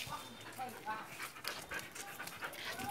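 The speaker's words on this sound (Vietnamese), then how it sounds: "đây là mấy con chó mình nuôi ở nhà đấy" Farm-raised dogs panting, a steady rapid breathing rhythm heard at moderate distance under a voice talking throughout.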